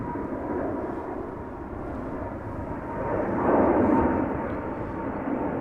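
A twin-engine Boeing 777 airliner climbs out after takeoff at Amsterdam Schiphol, a steady distant jet roar that swells slightly toward the middle and then holds, with no voices.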